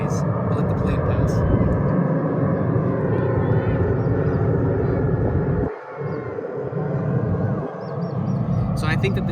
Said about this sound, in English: I'll let the plane pass.